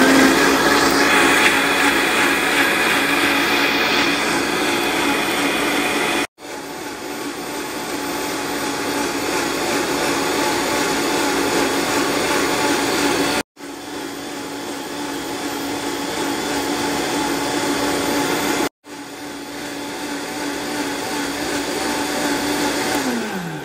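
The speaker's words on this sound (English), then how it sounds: "I'm going to turn the blender on." A kitchen blender chops sliced ginger and a whole garlic bulb, a loud steady motor whir running in three long bursts with brief stops between them and no talking.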